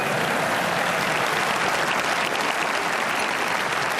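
Audience at a National Day Rally breaks into sustained, dense applause, loud and even throughout with no talk over it.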